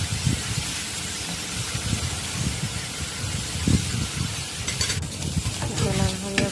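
Oil with red mustard seeds sizzles on a hot tawa in a steady, moderately quiet hiss, with brief crackles and clinks of a utensil near the end.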